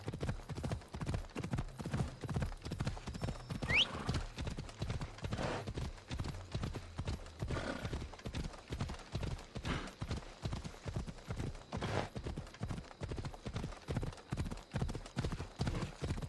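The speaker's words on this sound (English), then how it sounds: "I was hearing the horse noises while playing Guild Wars 2" Steady clip-clop of horse hooves at a walking rhythm in the video game Assassin's Creed Odyssey, fairly quiet and continuous, with a brief high whistle-like tone early on.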